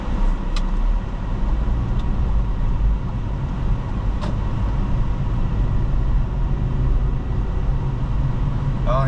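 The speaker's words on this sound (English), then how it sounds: "Yeah, the new gas cap car's running great." A turbocharged car engine hums steadily from inside the vehicle, a low continuous drone with a few faint clicks, no talking.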